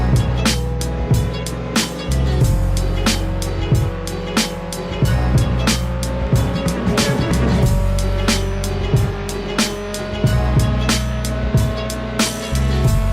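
Torpedo car in a video game driving at speed, with a steady engine drone that slowly climbs in pitch, plus regular sharp clicks or thumps throughout, loud and continuous with no talk.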